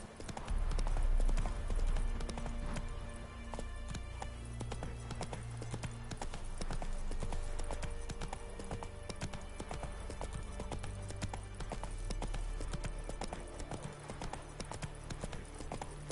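Steady clip-clop of the horse Roach's hooves in The Witcher 3 keeps a continuous trotting rhythm under a dense layer of game background sound, with no talking.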